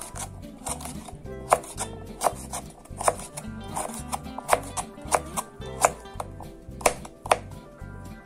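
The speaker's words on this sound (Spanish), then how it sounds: "La zanahoria también la picamos así, en cuadritos pequeños." A knife chops carrot into small cubes on a cutting board, producing sharp, evenly spaced knocks at a steady rhythm, close and clear with no talk.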